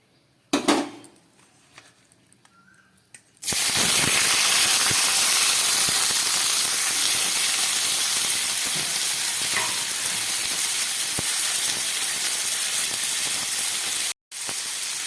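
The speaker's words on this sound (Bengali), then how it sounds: "দিয়ে খুব ভালো করে আমি চিংড়ি মাছগুলোকে ভেজে নিচ্ছি।" Prawns fry in a kadai with salt and turmeric, a loud, steady, close sizzle that bursts in suddenly after a few seconds of quiet handling noise and continues without letup, with a brief break near the end.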